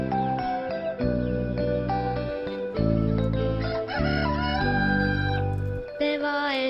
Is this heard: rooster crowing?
yes